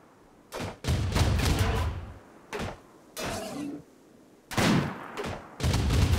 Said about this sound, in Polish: To nie może strzelać, tylko te dwa i Brown strzela.